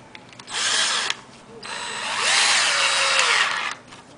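A power drill drives drywall screws into a salvaged wooden board while building a chicken coop, with two sustained whirring runs, a short one and then a longer one, close and loud, with no talk.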